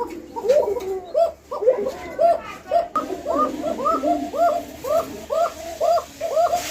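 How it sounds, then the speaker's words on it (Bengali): A pair of fancy pigeons coo close by in a farm loft, a repeated rolling series of soft throaty calls that grows into a steady rhythmic pattern, with a voice faintly present early on. "এই যে জোড়াটা ডাকতেছে দেখছেন ভাই প্রতিটা কবুতরই ডাকে"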